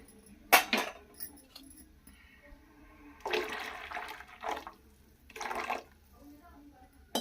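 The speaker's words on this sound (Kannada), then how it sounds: "ನಾವು ಒಂಚೂರು ನೀರನ್ನು ಸೇರಿಸ್ಕೊತಾ ಇದ್ದೀವಿ" Water being poured into a pot of fish sambar during cooking, heard as a few short splashing bursts separated by quieter kitchen background.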